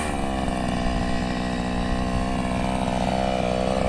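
A chainsaw cuts almond trees during pruning in an orchard at Kalecik Gümüşpınar, its engine droning loud and unbroken at a steady high pitch for the whole stretch.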